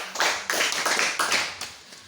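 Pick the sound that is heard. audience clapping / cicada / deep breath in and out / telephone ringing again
audience clapping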